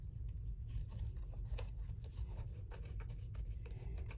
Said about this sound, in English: Make sure you burnish it.